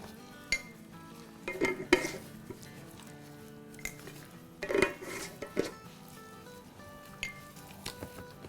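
Raw chicken is stirred and mixed with spices, including fenugreek, in a pot while preparing an Eid feast, giving soft, intermittent scraping and clinking bursts of utensil on metal against a quiet background.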